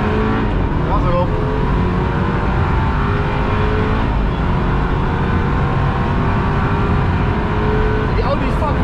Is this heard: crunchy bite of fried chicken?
no